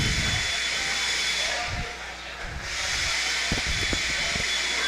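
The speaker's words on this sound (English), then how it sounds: "we only have one blower, guys, so be patient" At a race track, a blower runs with a loud, steady hiss and rush of air that dips briefly in the middle and then returns, with faint background noise and no clear talk.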